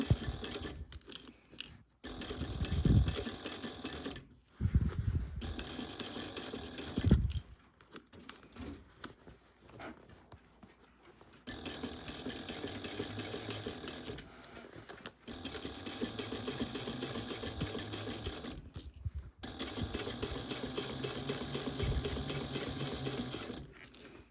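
A sewing machine stitches a laptop bag in several bursts of steady mechanical whirring, separated by brief pauses and louder clunks of handling.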